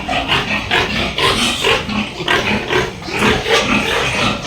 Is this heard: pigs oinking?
yes